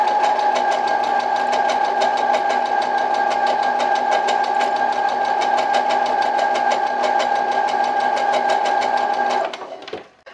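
A sewing machine stitches straight along a belt, running at a fast, steady, loud mechanical rhythm for about nine seconds before slowing and stopping abruptly.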